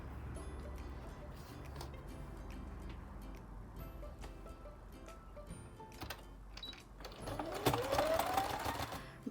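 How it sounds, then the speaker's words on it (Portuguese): A sewing machine stitches fabric for a handmade Easter bunny toy, its rapid mechanical needle chatter running steadily throughout and swelling louder near the end, with no talking. "e vou costurar na máquina também."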